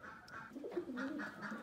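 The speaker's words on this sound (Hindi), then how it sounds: "तो ये भाई सारे कबूतर जो है बैठे हुए हैं" Pigeons in their coop, recently given medicine, coo softly and continuously at close range, with low, rolling calls overlapping throughout and no talking.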